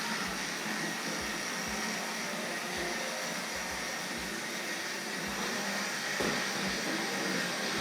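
Hornby R.757 Jinty model railway locomotive pulling a bright red coach on track, a steady motor whirr with rhythmic clicks of wheels over rail joints, moving away into the distance.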